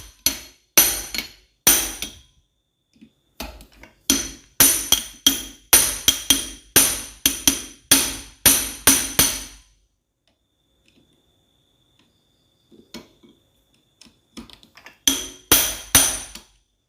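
A hammer striking while clutch bolts are tightened, loud sharp metallic blows in rapid rhythmic runs broken by a long quiet pause, close and dry with a faint ring, no talking.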